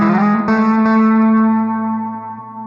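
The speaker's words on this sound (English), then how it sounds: "I see that here we have a tape echo. So why don't we just use that instead?" An electric guitar played through a tape echo effect in Amplitube 5 rings out as a loud, distorted sustained chord, with quick repeating echoes of the attack slowly fading away.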